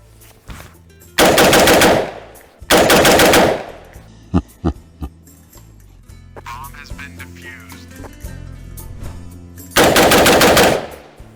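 Loud AR-15 rifle shots fire in quick bursts, several rapid reports at a time, separated by pauses with clicks and handling noises between.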